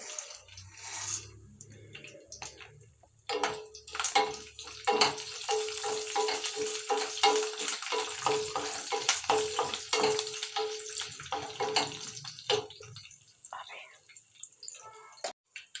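Curry leaves, cumin and tempering spices sizzle and crackle in hot oil, a dense steady hiss that starts abruptly and fades near the end, with quiet talk early on.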